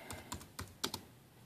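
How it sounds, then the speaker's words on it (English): A handful of keystrokes on a computer keyboard while entering text for a banner design, several quick close clicks spaced unevenly with a tight double tap near the end, alone without talk. "Click in here and start typing"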